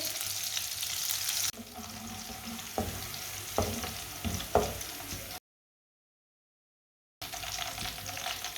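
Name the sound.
chopped green garlic and onion frying in ghee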